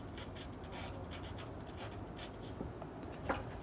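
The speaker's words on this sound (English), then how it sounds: "I'm just gonna write down the date" A pen scratches and scribbles faintly on paper as the date is written, a soft, continuous rubbing with a few small taps, close and quiet.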